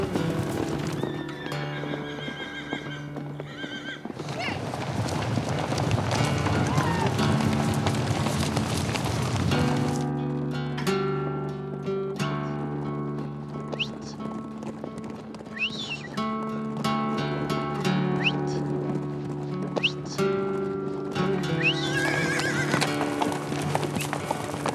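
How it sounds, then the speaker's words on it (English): Many horses neigh and whinny loudly over a continuous rumble of hooves, as if a herd is moving together nearby. "they let the horses loose at sunset so they can spend the nights roaming freely in the mountains"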